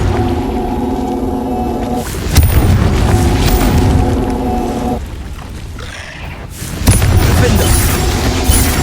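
Confringo fire spell blasts in the Hogwarts Legacy video game, a cave setting, with loud booming explosive bursts around two and seven seconds over a dense rumbling game soundscape, continuous and heavy throughout.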